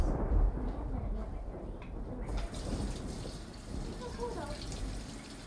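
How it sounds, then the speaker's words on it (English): Running water pours from a kitchen tap over hands being washed, a steady broadband rush that shifts in tone partway through. "Now we need to wash your hands"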